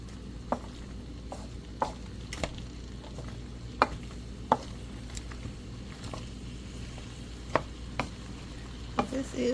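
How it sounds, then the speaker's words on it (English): Broccoli and zucchini stir-fried in a wok, a low steady sizzle under repeated sharp clacks of a utensil scraping and tossing the vegetables at an irregular pace, heard close with no talking. "Just stir frying up broccoli, zucchini."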